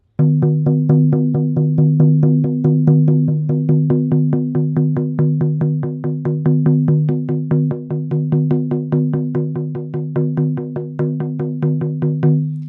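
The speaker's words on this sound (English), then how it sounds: "just by hearing the drum moving in this way" A steady, fast shamanic drum beat with evenly spaced resonant booming strikes, continuing alone at a constant rhythm for several seconds.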